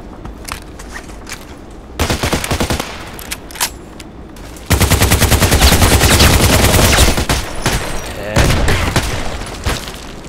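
Bursts of gunfire in the online shooter Contract Wars on the Site map: loud, rapid automatic volleys and single shots come in clusters, close and dense, with someone speaking briefly between them.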